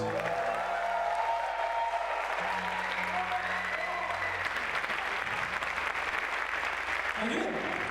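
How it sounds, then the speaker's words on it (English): An audience in Stockholm gives a long round of applause at a climbing competition event, sustained clapping and cheering with an amplified voice speaking over it. "please give a huge round of applause to Stefan Eklund!"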